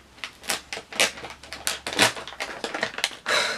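Plastic crinkling and sharp crackles come from a stiff resealable snack package of root beer candy being forced open, with irregular bursts of rustling and tearing at close range and no speech.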